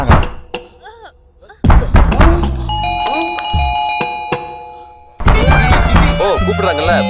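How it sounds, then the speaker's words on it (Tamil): A household doorbell rings with a sustained electronic chime that holds steadily through the middle of the stretch, preceded by a dull thunk and followed by another knock-like thud, with voices and background noise around it. "ஓ கூப்பிடுறாங்கல்ல, பெல் அடிக்குது."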